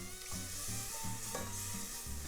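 Condensed milk whisked into a sauce in a pan for crawfish mac and cheese, heard as a steady, soft swishing with a low rhythmic scrape, close and faint.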